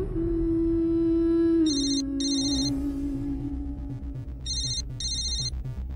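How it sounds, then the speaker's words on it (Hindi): A telephone rings in two short electronic trilling bursts about three seconds apart, indoors over a steady background tone and low noise, with nobody speaking. "इतना देर से फोन बजता उठा ना सकेलू?"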